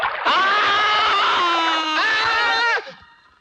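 A man screams loudly and continuously for nearly three seconds after being scalded by hot water in a bathroom, a strained, wavering cry that cuts off abruptly and leaves a brief fading tail.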